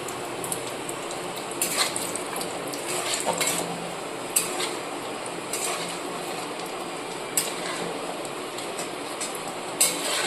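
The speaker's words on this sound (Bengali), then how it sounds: "এবার কাজু বাদামগুলোকে হালকা করে ভেজে নেব।" Cashew nuts fry lightly in a pan for a paneer and potato curry, giving a steady soft sizzle with occasional sharp clinks of a utensil stirring against the metal.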